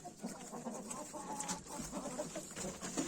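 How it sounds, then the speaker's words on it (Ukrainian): Several chickens cluck softly and continuously at close range while eating warm porridge and kitchen scraps, with quiet pecking and shuffling sounds mixed in. "Кури снідають."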